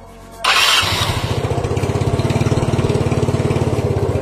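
A small motorcycle such as a Honda Grand, Vario 110 or Yamaha Mio, with a multimeter clipped to its battery in a repair shop, cranks briefly and catches, then settles into a loud, close, steady rhythmic idle with no talk.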